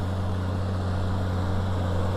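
A 200-horsepower tractor engine runs out in the field during no-till barley sowing, giving a steady, loud, close droning hum with a strong low rumble and no speech.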